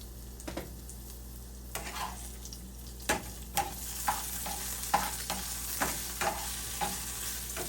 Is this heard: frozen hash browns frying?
yes